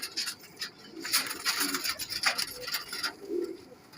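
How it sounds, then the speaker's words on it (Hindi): Pigeons of a fancy crested breed coo in short, soft throaty bursts that repeat irregularly, layered with rustling and scraping close by and no talk over them. "कांटों वाले ये कबूतर है"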